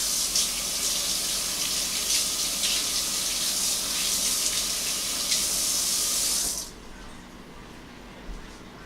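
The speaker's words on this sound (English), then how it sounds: "I think I'm going to wash this spoon out" A kitchen tap runs hard as a spoon is rinsed under it, a steady loud gush of water that cuts off abruptly near the end, leaving faint room noise and a small clink.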